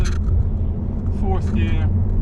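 A car with a double clutch transmission accelerates briskly, its low engine rumble steady and close throughout, with a voice talking over it.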